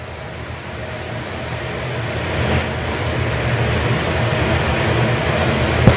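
Jet-powered drag racing car at Santa Pod, a broad continuous roar that builds steadily and stays loud throughout, with no talk over it.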